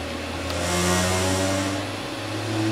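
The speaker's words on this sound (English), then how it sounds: "The other noise you can hear is a fan, which is to cool the motor that's running" An electric motor on a vehicle regenerative-acceleration test rig runs alongside its cooling fan, giving a steady, close hum with layered tones and a broad airy whoosh that swells and settles slightly.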